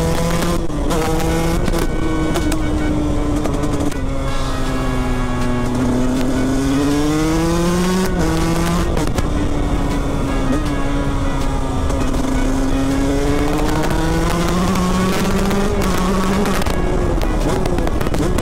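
A 125 SX supermoto motorcycle ridden on small roads, its engine note climbing and falling through repeated revs and gear changes, loud and continuous throughout with no pauses.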